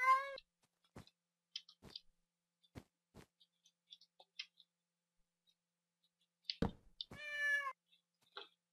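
Two clear cat meows from the Mo Creatures mod in Minecraft, one at the start and one near the end, separated by sparse game clicks and ticks with no talking.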